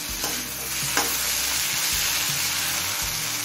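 Poppy seed paste being sautéed in a pan for a loti posto dish, a constant close sizzle with repeated scraping strokes of a spatula stirring every second or so.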